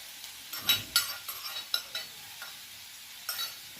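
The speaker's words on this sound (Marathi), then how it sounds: "छान परतून घेऊ बिटाचा हलवा" Beetroot halwa with fried dry fruits is stirred in a pan, giving a series of close spoon-on-pan clinks and scrapes over a soft sizzle, with no talk.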